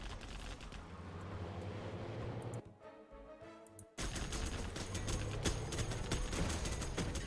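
Rapid video-game gunfire against Chinook helicopters: dense bursts of automatic shots, briefly cut to a muffled lull, then resuming in loud sustained fusillades.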